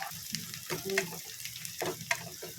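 Onions sauté in a pan, a soft sizzle and frying hiss broken by stirring scrapes and clinks, fairly faint and close.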